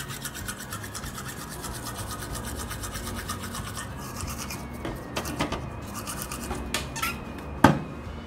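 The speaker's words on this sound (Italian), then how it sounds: "Poi mi lavo i denti." Steady close scrubbing of a toothbrush against teeth, a rhythmic rasping brush with a few louder strokes and taps toward the end.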